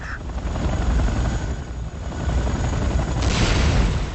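Enemy helicopter in the Renegade video game, a loud, steady rotor drone filling the whole clip with dense low thumping and a brighter swell near the end, with no talking.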